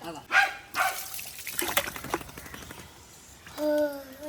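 Water splashes and pours in short bursts while a dog is bathed, with people talking nearby between the splashes.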